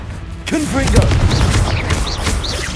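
Blasting fire spells detonate in the Hogwarts Legacy game: a loud booming explosion with sharp cracks and repeated impacts in a busy fight, mixed with whooshing spell effects and shouted voices.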